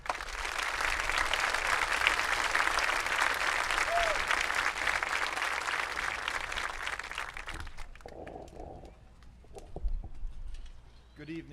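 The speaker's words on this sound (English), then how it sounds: "Please give these people a round of applause." Crowd at the 2022 Triway High School graduation gives sustained, even applause for several seconds before it thins out abruptly, leaving scattered claps, murmuring and a few low voices in a large space.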